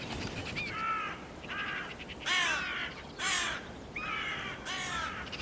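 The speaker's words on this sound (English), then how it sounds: "Not surprising with the amount of crow activity in the area." Hooded crows caw repeatedly outdoors in a UK area near lambing sheep, with about six harsh, rasping calls in irregular bursts, some louder and closer than others.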